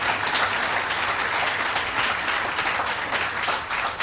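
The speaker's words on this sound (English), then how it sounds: "Let's give Mo a big round of applause." A crowd at a groundbreaking ceremony for a new ShopRite grocery store in Atlantic applauds, a loud, sustained roar of many hands clapping that holds steady without speech before easing slightly at the end.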